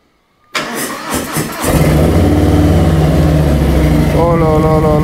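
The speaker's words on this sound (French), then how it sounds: "Attention les oreilles. Démarrage à froid." A motorcycle engine cold-starts with a brief starter churn and sputter, then catches into a loud, steady, close idle that rises slightly in revs near the end.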